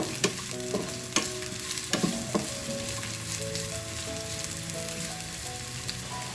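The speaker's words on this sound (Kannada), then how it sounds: "ನೋಡಿ, ಈರುಳ್ಳಿ ಚೆನ್ನಾಗಿ ಸ್ವಲ್ಪ ಫ್ರೈ ಆಗಬೇಕು." Sliced onions fry in hot oil in a pan, a loud, steady crackling sizzle with a few sharp taps of a spoon stirring them, and background music playing underneath.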